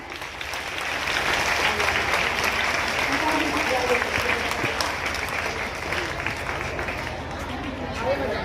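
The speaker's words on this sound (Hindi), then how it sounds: "एक बार 2000 तालियां।" Sustained audience applause at a school celebration at Gautam Buddha Academy in Gorakhpur, a dense steady wash of clapping from a crowd that holds loud for the whole stretch with faint voices mixed in.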